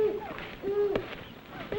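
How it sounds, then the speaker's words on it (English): An owl hoots three times in a 1955 dinosaur film, the calls short and mid-pitched against a soft background hum. "That's an owl."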